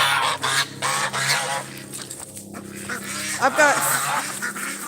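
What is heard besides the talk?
geese and ducks honking and quacking at dusk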